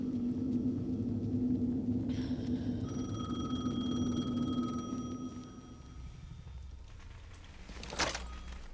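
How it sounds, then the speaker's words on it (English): Telephone ringing in the video game Alan Wake 2, a steady electronic ring tone sounding over a low ambient rumble, fading out and followed by a soft clunk. "The phone again."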